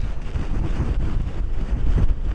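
Strong hurricane winds of about 83 mph on the Outer Banks roar and buffet the microphone in a dense, continuous rush with gusty surges, loud and close, with no talk.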